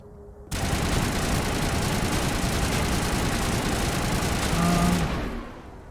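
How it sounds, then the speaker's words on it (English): Gunfire in Mass Effect, a sustained, loud, rattling burst of rapid automatic fire that starts abruptly and runs for several seconds before easing off, with a low engine-like drone underneath. "What are you firing at?"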